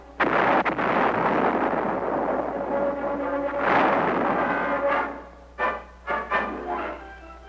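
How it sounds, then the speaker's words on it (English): Saturation airstrikes and artillery fire on strategic hilltops in the Vietnam War, a loud continuous barrage of rumbling blasts, with a few sharper separate detonations near the end. "This meant several days of saturation airstrikes. And artillery fire."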